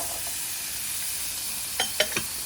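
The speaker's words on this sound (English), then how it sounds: "Ooh, sizzle. Potato and also the carrot." Potato and carrot sizzle in a hot pan while cooking for menudo, a steady close hiss broken by a few sharp crackles near the end, with no talking.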